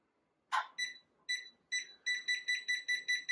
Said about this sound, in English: Now it beeps like that when it's not level.